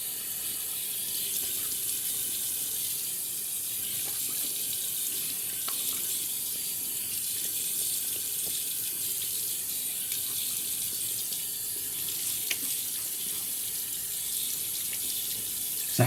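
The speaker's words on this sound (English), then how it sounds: "So let's wet the face and get the lather" Tap water runs steadily from a faucet into a sink for about sixteen seconds, wetting the face before a shave with a Gillette No. 58 safety razor; a constant close hiss with no talking.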